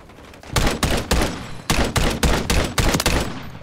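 Loud semi-automatic gunfire in Call of Duty Modern Warfare III gun game mode: separate sharp shots in two uneven bursts, each crack ringing briefly before the next, with no speech over it.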